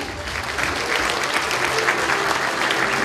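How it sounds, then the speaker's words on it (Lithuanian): An audience at a cultural awards ceremony breaks into steady, dense applause, a sustained crowd of clapping hands that swells slightly after the start and holds at full strength. "Plojimai."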